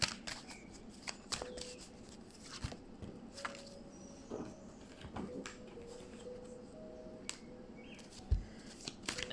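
Tarot cards shuffled close up in a quiet room: a run of soft, irregular riffles and papery flicks with sharper taps and slaps scattered through, with no voices.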